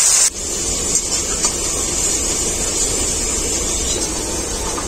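Turmeric and spice-washing water splash into a pan of frying ground coriander, pepper and dried chilli paste, setting off a loud, close hissing sizzle that starts abruptly and holds steady.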